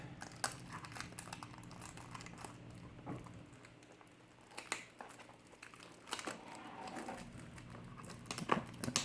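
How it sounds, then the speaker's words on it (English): Foil wrapper of a Star Wars CCG Tatooine booster pack being opened, faint close crinkling and tearing with scattered sharp rustles and small taps. "So we're going to get this opened up and open up at least one pack."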